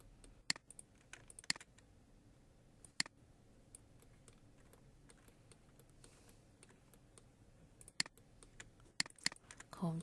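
Keyboard key presses and mouse double clicks while modeling a blanket in 3D software, heard as sparse, sharp, quiet clicks in pairs and small clusters against a faint room hiss, with no talking.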